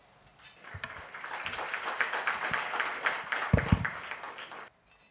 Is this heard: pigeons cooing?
no